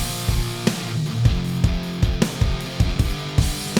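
Punchy, choppy guitar chords in a bouncy riff lock in with a steady drum groove, kick and snare hits cutting through regularly.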